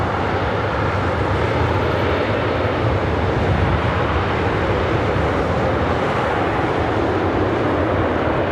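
A Boeing 777-300ER at Los Angeles International Airport, bound for Tokyo Narita, gives off a steady, loud broadband jet roar that holds evenly for the whole stretch, with no talk over it.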